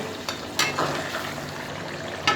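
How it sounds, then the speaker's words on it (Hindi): Beef frying over low heat in a pan, a steady soft sizzle with a few brief scraping or stirring clicks. "इसे अब मैंने 10 से 15 मिनट हल्की आंच पे भूनना है"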